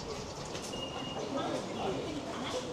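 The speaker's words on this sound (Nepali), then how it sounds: "यो चाहिँ ट्रेन स्टेसन" Steady ambience at a railway station in Arashiyama, Kyoto, during cherry blossom season: a continuous, fairly loud rumble of a train and platform noise with a faint high tone, and no clear breaks throughout.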